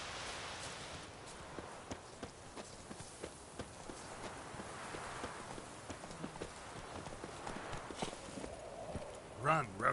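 Geralt's horse Roach in The Witcher 3 trots along with soft, irregular hoofbeats under a hissy ambient bed, fairly quiet and muffled, with a short sharper sound near the end.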